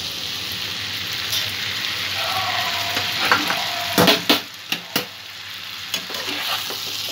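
Jackfruit stir-frying in a pan with cashew and raisin paste gives a steady sizzle, with a few sharp spatula scrapes and clinks toward the end and no voices.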